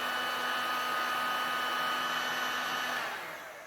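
A heat gun blows steadily as it shrinks heat-shrink tubing over a soldered wire joint on a YCF R-Start motorcycle, a constant close airy roar with a faint tonal whine that begins to fade toward the end.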